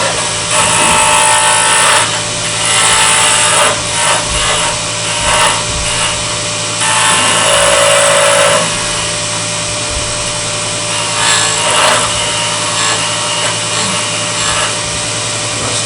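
A wood lathe spins a spalted wood blank while a tool cuts the tenon area, giving a loud continuous hum with scraping, hissing bursts of cutting that swell and fade throughout.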